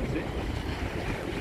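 Strong wind blowing at the sea in Puglia, Gallipoli, a brief rushing gust buffeting the microphone with surf and water noise beneath.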